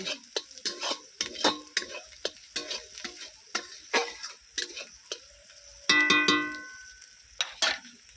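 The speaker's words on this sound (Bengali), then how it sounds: "লঙ্কা গুঁড়ো হলুদ গুঁড়োটাও খুব ভালো করে মশলার সঙ্গে কষিয়ে নেব" Chili and turmeric powder are stir-fried with ginger-garlic paste for a rui fish kalia. A spoon scrapes the pan in repeated sharp strokes over a light sizzle, with a brief metallic ring partway through.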